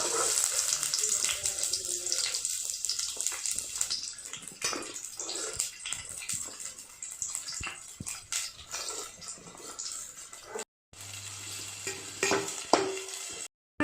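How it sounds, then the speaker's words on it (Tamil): Onions drop into hot oil with fenugreek seeds for a Sankara fish curry, giving an uneven sizzle with stirring scrapes and clatter, briefly cutting out near the end, with some faint voice. "வெந்தயம் வதங்கிருச்சு வெங்காயம் போடுறேன்"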